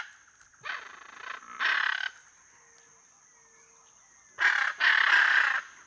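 A group of araras (macaws) gives harsh, raucous calls in two loud bursts, then a pause of near silence, then two more bursts, with a faint steady high tone running throughout.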